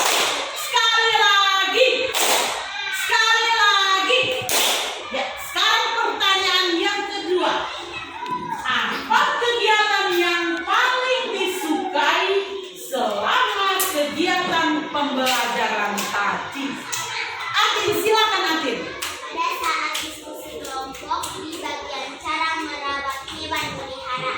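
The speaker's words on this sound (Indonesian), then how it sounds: "Tepuk tunggal untuk Gerald." A group of children speak and chant together in Indonesian, with bursts of sharp clapping scattered through the talk, some claps landing in quick unison.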